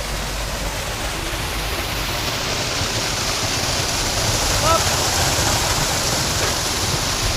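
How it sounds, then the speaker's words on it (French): Water of a small stream rushes in a steady, broadband hiss that runs close and loud from start to finish, with a brief spoken word partway through. "Il y a des ruisseaux. L'eau d'un ruisseau."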